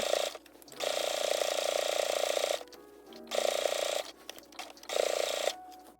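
A sewing machine stitches fabric bow pieces in three bursts of rapid mechanical whirring, separated by short quiet pauses, close by and with no talking.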